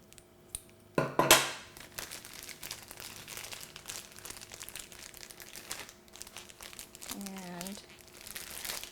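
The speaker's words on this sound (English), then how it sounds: "you do is take your Ziploc bag, open it up." A plastic Ziploc bag is opened for use as a piping bag in a cupcake kitchen, a sharp burst of close crinkling followed by softer scattered rustles and handling noises.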